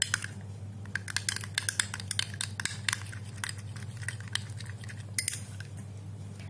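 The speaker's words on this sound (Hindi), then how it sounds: "अब इन दोनों चीजों को आपको अच्छी तरह से मिक्स कर लेना है।" A spoon works raw milk into a face paste in a bowl, making rapid, irregular clinks and scrapes against the bowl's sides over a low steady hum, with no talking.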